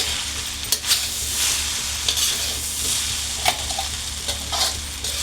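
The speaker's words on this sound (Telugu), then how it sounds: "హై ఫ్లేమ్లోనే పెట్టుకొని కలుపుకోవాలి" Veg noodles stirred in a pan over a high flame: a steady sizzle underneath with a low hum, broken by sharp scraping knocks of the spatula every second or so, close and fairly loud, with no talk.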